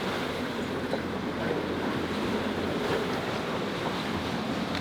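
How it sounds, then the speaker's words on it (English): Strong wind of about 25 knots and breaking waves at sea aboard a sailboat making a solo passage from Aruba to Curaçao. A steady, close roar of wind and water runs without a break, with no voices. "the wind is still up at like about 25"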